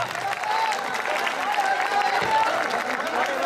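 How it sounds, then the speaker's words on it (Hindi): Audience applause at a kavi sammelan (Hindi poetry gathering) at IIT Jodhpur, a steady dense clapping from a crowd lasting throughout, loud and sustained with some cheering mixed in. "तो एक बार तालियों से डॉक्टर राम अकेला जी।"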